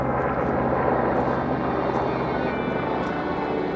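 Steady engine drone of a helicopter overhead, continuous and fairly loud for the whole stretch with no voices.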